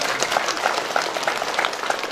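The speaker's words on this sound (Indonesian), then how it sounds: "tepuk tangan untuk Kapolda Jawa Barat" Moderate applause from an audience at a village inauguration ceremony in West Java, a steady patter of many hands clapping with individual claps audible.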